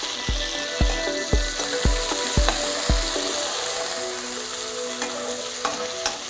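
Tomatoes and onions fry in a pan and are stirred, with a series of sharp, regular spoon knocks against the pan over a continuous sizzle, close up and with no talking.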